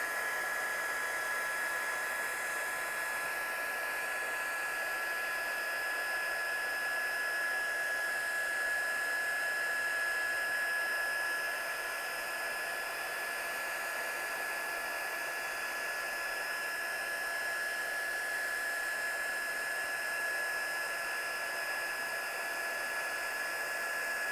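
A handheld embossing heat gun blows steadily over embossing powder as it melts, a continuous loud fan whoosh with a fixed whine running unbroken from start to finish, with no voices.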